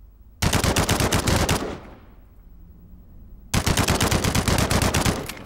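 A powerful new gun in the Code of War video game fires two loud sustained automatic bursts, each lasting over a second, separated by a brief fading pause.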